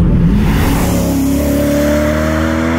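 A BMW M3 E92 with an Akrapovic exhaust revs loudly and close, one sustained engine note climbing steadily in pitch with no talking over it.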